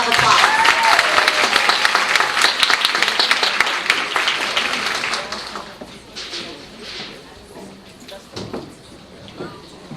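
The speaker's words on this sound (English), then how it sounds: "Let's give her a round of applause" Loud applause fills a women's history month symposium hall, then fades after about five seconds into quieter room noise with a few remaining claps.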